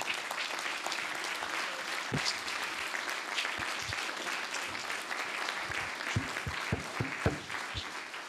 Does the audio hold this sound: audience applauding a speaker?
yes